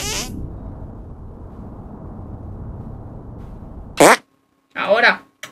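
A loud, wet fart from the South Park video game rumbles for about four seconds, followed by a short sharp burst, then voices talking briefly.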